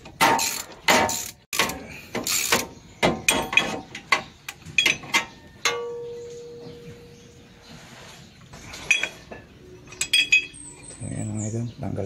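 A ratchet socket wrench fitted with a 19 mm socket loosens the bolt of a damaged crankshaft pulley on a 2003 Toyota Revo VX200 with the 1RZ-E 2.0 engine. Close, sharp metallic clicks and clanks come in irregular bursts, with a brief ringing tone.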